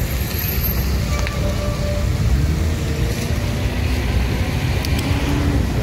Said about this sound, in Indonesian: ini deras sekali nih aliran banjirnya